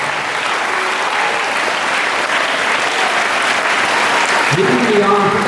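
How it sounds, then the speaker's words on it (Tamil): Children at a school birthday celebration clapping together in steady, dense applause that runs throughout, with a voice starting to speak over it near the end. "அத்தனை குழந்தைகளும் இன்று கைத்தட்டி உங்களுக்கு நன்றியை செலுத்திக் கொண்டிருக்கிறார்கள்"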